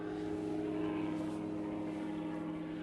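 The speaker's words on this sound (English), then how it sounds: "there's an helicopter bringing me lunch" Helicopter flying overhead above a fishing lake, a steady droning engine and rotor hum holding at constant loudness throughout, no talking.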